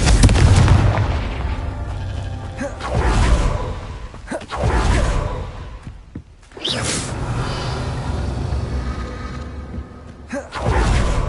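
A Confringo fire spell in Hogwarts Legacy lets off loud, booming whooshes and blasts, several heavy bursts that swell and fade across the span with brief gaps between them.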